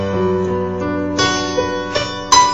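Piano plays the left-hand part of As The Deer, a few low chord and bass notes struck one after another and left to ring, clear and close with nothing else heard.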